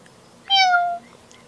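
A single drawn-out meow, clearly voiced by a person imitating a cat, rising then sliding down, close and alone in a quiet room.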